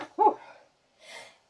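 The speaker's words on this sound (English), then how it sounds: "I'm going to sneeze." One sharp, close sneeze from a person bursts out, then a softer breathy exhale follows after a short pause.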